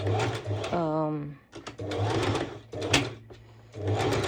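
A sewing machine stitches a lettuce edge hem, its motor whirring in bursts with brief pauses between runs, while someone speaks over the stitching.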